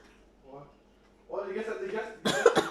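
A person coughs near the microphone, with a faint throat noise first, then a harsh sustained cough and two sharp loud coughs at the end, against an otherwise quiet room.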